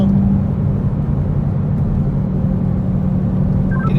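A motorcycle engine on light throttle during a spring mountain track ride gives a steady, low rumbling drone with wind noise, holding an even level throughout without a sharp rev.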